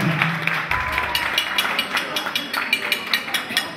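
Audience applause at a festive gathering, steady rhythmic clapping from a crowd filling the space at moderate loudness, with a voice briefly heard at the start.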